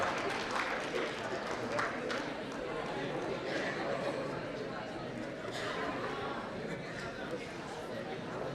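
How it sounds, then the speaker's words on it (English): Audience applause at an international sports and exercise medicine conference, a sustained crowd clapping rather soft and diffuse throughout, mixed with murmuring chatter. "A big clap."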